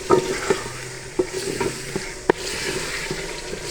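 Green peas stir-fried in a cooked masala for a mixed vegetable dish: a continuous sizzle broken by repeated spatula knocks and scrapes against the pan at an uneven pace, close by with no talking.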